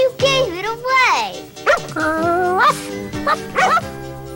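Dog barking and yipping in a Post Honeycomb and Alphabet cereal TV commercial during a Pictionary game: several close, loud, pitch-sliding yelps and woofs in quick succession, cartoonish and voice-like, suggesting a person imitating a dog.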